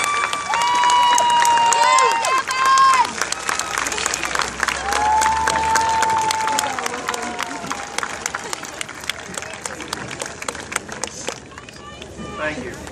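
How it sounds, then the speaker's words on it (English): A graduation crowd at a high school class of 2014 ceremony applauds loudly with scattered cheers and whistles mixed in, a dense, sustained roar of clapping and crowd chatter that thins out toward the end. "give a round of applause to all those who have gathered here again"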